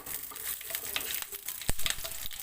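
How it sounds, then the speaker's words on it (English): Mustard seeds crackle and sizzle in hot oil for a stir-fried cabbage dish, a close, steady spitting hiss with one sharp pop near the end. "we will put 3/4 teaspoon of mustard seeds"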